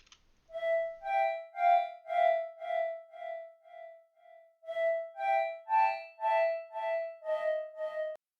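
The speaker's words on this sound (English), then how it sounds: "the same flute that's used at the beginning of the song, but it's just up in octave" A high, breathy flute sample pitched up an octave plays alone in a beat, each note clear and sustained, with a short pause midway before the phrase repeats.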